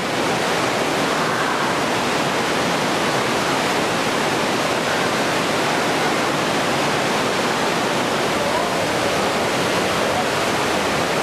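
Water rushing and pouring through the Breitachklamm gorge, part of it falling onto the footpath, a loud unbroken roar of spray and torrent holding steady throughout.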